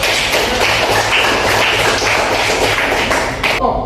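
Students in a classroom break into applause, a dense, loud burst of clapping that holds steady for a few seconds before cutting off abruptly.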